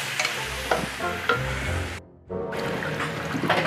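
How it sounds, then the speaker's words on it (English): About a quarter cup of water poured into a hot wok of chili prawn stir fry with spring onion, giving loud close sizzling and stirring with a brief quieter gap midway before the frying resumes. "Next, we had about a quarter cup of water."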